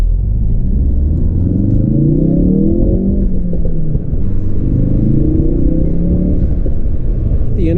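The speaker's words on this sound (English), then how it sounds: "as soon as you put your foot down in this car, it just rips" A Ford Focus RS accelerates hard from the driver's seat, its engine roar climbing steadily through the gears with loud, continuous rumble and rising tone, a brief shift dip midway and no talk.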